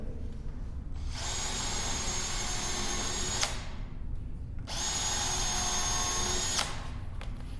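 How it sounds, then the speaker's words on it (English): A power drill bores through 2x4 lumber in two long, loud, steady passes with a whining motor tone, separated by a short pause. "We're going to go ahead and drill through this."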